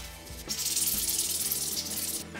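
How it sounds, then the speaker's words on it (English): Hand sanding of a 3D printed plastic shotgun part, a steady hissing scrape in quick back-and-forth strokes, close and fairly loud, with no voices. "I think it's easier to sand now than sand it later when it's assembled."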